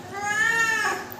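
A cat lets out a single drawn-out meow, loud and close, rising and then falling in pitch with no talking over it.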